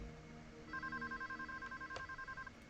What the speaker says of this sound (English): the phones began ringing off the hook in the police station at Yorktown